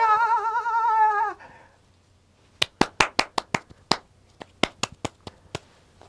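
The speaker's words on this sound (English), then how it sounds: "Yes, clap for me." A short sung or mewing tone gives way to a brief pause, then a small group claps in scattered, sharp bursts, close and dry, about a dozen distinct claps in an uneven rhythm.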